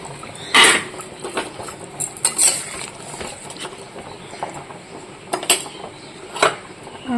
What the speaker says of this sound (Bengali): এবার দিয়ে দেবো মাছ